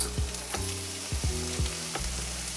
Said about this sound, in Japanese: ここじゃあ玉ねぎ炒めるんですけど、オリーブオイル使うんですけど